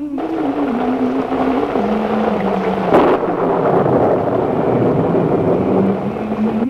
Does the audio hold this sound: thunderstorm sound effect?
yes